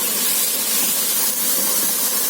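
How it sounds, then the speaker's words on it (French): Onions sweating in a pan with crushed bay leaf and thyme for a lasagne bolognaise, giving off a steady, close, even sizzling hiss with no pauses. "Voilà, vos oignons ils sont en train de suer."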